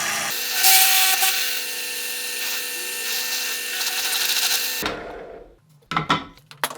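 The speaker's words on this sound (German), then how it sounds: "da müsste das Loch gebohrt werden. Dann anmachen." A loud, steady whirring drill runs for several seconds, then stops abruptly, followed by a few short clattering knocks.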